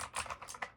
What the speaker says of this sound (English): So as you click and press different keys,